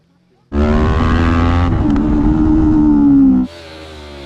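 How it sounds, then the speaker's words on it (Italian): A Yamaha R3 motorcycle roars past on a racetrack at high revs, loud and steady for about three seconds, with a pitch shift as it passes, then cuts to quieter noise. "Vediamo un po' in quanto gira il buon Sabatucci con la mia R3"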